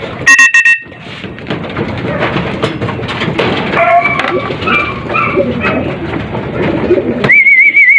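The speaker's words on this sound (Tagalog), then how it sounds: "So guys, nandito yung ibon natin." Pigeons coo repeatedly at close range over a rustling background, with a few brief sharper chirps and calls mixed in.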